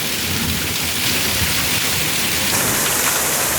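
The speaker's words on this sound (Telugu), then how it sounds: "చాలా పెద్దగా వర్షం పడుతుంది" Heavy summer rain pours down on a garden of potted plants, a dense, loud, unbroken roar of falling water that never lets up, with rumbling thunder blended beneath it.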